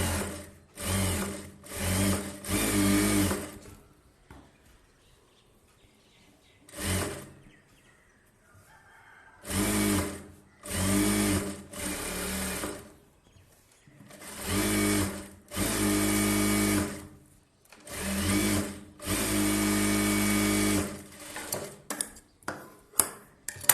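A sewing machine stitches along a blouse edge in repeated bursts of rapid mechanical chatter, separated by quiet pauses, close and clear, with a rooster crowing faintly in the background.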